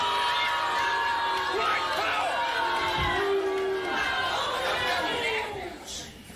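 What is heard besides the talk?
crowd cheering and chattering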